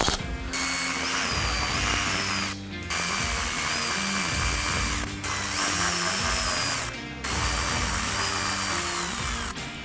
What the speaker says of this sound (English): You use a size 10mm wrench or socket to remove them.